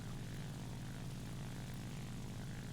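The Ki-94-II propeller plane's engine in War Thunder drones steadily and loudly, a constant deep buzzing roar with no breaks, heard alone without any talk.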